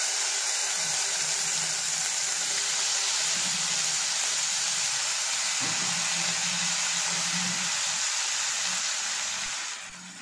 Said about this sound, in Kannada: ಈಗ ಕಟ್ ಮಾಡ್ಕೊಂಡಿರೋಂಥ ಬದನೆಕಾಯಿ ಹಾಕ್ತಾ ಇದ್ದೀನಿ